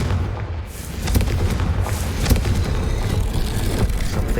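Confringo explosive spell in Hogwarts Legacy, a heavy rumbling blast that swells after a second and holds as dense booming noise with crackling bursts layered over it, loud and close.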